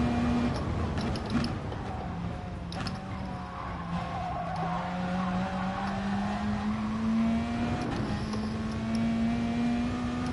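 A race car engine in GT Sport holds a steady, rising drone through a long stretch, with tire squeal and mechanical whine layered over a loud, continuous roar.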